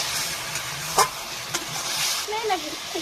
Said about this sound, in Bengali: ভালোভাবে কষানো হয়ে গেলে ভেজে রাখা বেগুনগুলো দিয়ে দিতে হবে, দিয়ে ভালো করে নাড়াচাড়া করতে হবে।